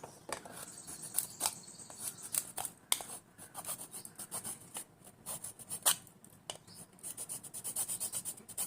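A heated part of a homemade automatic rechargeable solar light model being rubbed smooth by hand: repeated close, rasping scrapes in uneven strokes that settle into a steady back-and-forth rhythm near the end.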